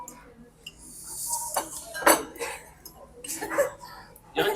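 A fork clinks against a dish during a meal of very spicy food, a few light metallic taps and scrapes scattered between quiet pauses, close and fairly soft, with some talking around them.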